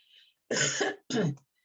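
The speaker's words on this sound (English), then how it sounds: "That's why I'm still coughing." Two harsh coughs in quick succession, close and fairly loud, preceded by a faint brief noise; the cough is from nearby fires.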